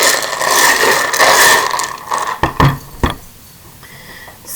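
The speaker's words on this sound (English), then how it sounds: "So I'm going to give it a little shuffle" Small charms are shuffled and tumbled together for a reading, giving a close, busy clatter of rattling and scraping that ends in a few sharp clicks, then quiets.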